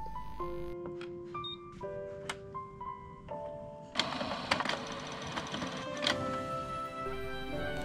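A Canon PIXUS TS8530 inkjet printer powers on with a series of clear electronic beeps and tones, then mechanical whirring and clunks as its carriage and rollers start moving, heard close with no talk.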